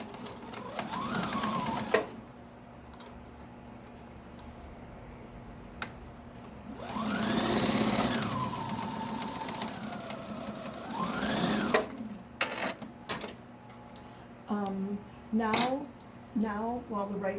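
A sewing machine stitches the seam of a fabric mask in a steady, close whirring run, stopping and restarting partway through, while someone talks over and between the stitching.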